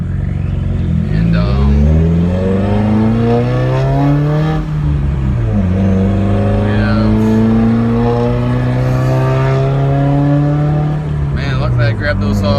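A loud straight-piped 2015 Subaru WRX exhaust roars as the engine accelerates through several gears, pitch climbing and dropping at each shift, heard close from inside.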